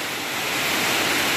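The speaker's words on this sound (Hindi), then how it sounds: "पानी अभी भी देखो यहाँ पे आप देख सकते हैं बहुत ही ज़ोरदार पानी हो रही है।" Heavy rain pours steadily as a dense, loud, unbroken hiss that grows slightly stronger over its brief length, with no voices over it.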